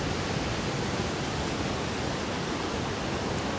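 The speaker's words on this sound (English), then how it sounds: "Got some nice big waves coming in." Large ocean waves break on a Nicaraguan beach at night, making a dense, continuous roar of surf that stays loud and even with no distinct individual crashes.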